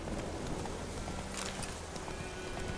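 Horse hooves clop steadily at a walking pace over a dense, noisy background in the video game The Witcher 3.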